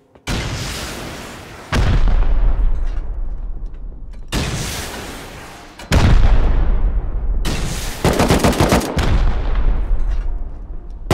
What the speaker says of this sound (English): I have one rocket off. I'll shoot that in there.